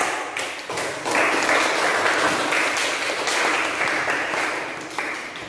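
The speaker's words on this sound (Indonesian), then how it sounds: "Kita beri tepuk tangan terlebih dahulu teman kita yang sudah menjawab." A class applauds classmates: dense, even clapping from a group of students, sustained for about five seconds at a moderate, fairly close level before easing off at the end.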